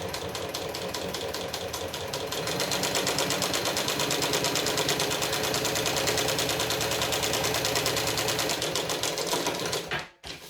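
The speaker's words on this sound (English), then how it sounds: "Okay, so we're going to stitch. We're going to back stitch." Sewing machine running steadily as it stitches and back-stitches a waterproof pouch, a dense, rapid mechanical chatter that holds close and loud for about ten seconds before cutting off abruptly near the end.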